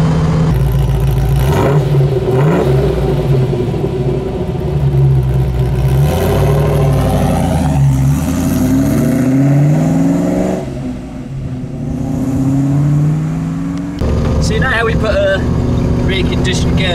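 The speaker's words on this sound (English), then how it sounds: "get a couple of flybys of the exhaust system we've built" A V8-engined car with a custom-built exhaust system revs and passes by, its engine note rising and falling in several loud sweeps, with voices faintly mixed in.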